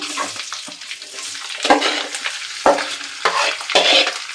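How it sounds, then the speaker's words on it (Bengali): Rice for basanti pulao is stirred and fried in a pan, with loud, close scraping sweeps and crackling sizzle in a loose rhythm, several sharp strokes toward the end, and no one speaking. "এবার এই চালটা দিয়ে নেড়ে নেব"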